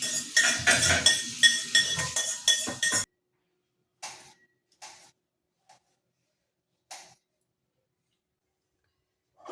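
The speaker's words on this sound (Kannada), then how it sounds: "ಕುಟಾಣಿ ತಗೊಂಡು ಇದನ್ನು ಕುಟ್ಕೊಂಡು" Ingredients for tomato rasam pounded in a mortar and pestle: a quick burst of dense, rhythmic clinking strikes, then a few sparse, isolated knocks separated by silence.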